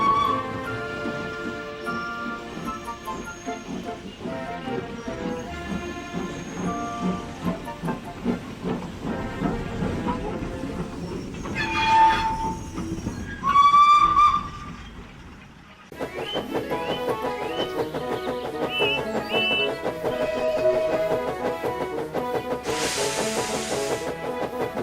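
Emily, a cartoon steam engine, runs along a railway track with a steady hiss of steam, then lets out two short, loud whistle blasts over background music before the chugging carries on.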